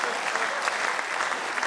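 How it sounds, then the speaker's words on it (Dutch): Theatre audience applauding during a Dutch cabaret show, a dense steady patter of many hands clapping close and loud with no voices over it. "Het applaus komt van de laatste 24 socialisten in de regio Nieuwegein."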